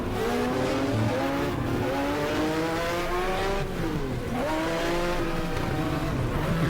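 A screaming Ford V8 HB racing engine in the GTR2 racing game winds up and down through repeated gear changes, loud and close, with a brief lift and re-acceleration mid-run and no talk over it.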